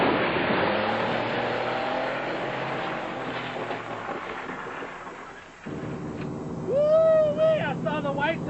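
A pickup truck speeds along with a loud roaring engine and rushing road noise, then the engine note drops and a rising, wavering whine builds toward the end.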